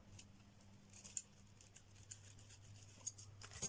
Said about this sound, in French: Donc je vais venir découper le ruban.